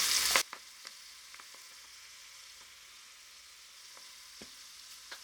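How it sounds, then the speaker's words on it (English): Flour-dusted onions fry in hot oil with a soft, steady sizzle and scattered faint pops, after a brief loud burst of spatter at the start. "I'm going to continue until all the onions have been fried"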